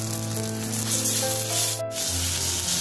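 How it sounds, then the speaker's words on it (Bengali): Garlic, ginger, tomato and spices frying in a pan, giving a continuous close sizzle and scraping hiss with a steady hum underneath. "মশলাটাকে আমি ভালো করে একটু ভেজে নিচ্ছি।"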